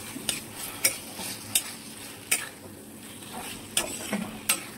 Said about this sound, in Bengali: মশলার মধ্যে আমি এই আলু এবং পটলগুলো, চিংড়ি মাছগুলো সব দিয়ে দিলাম। দিয়ে মশলার সাথে সবগুলোকে ভালো মতন এখানে কষিয়ে নিতে হবে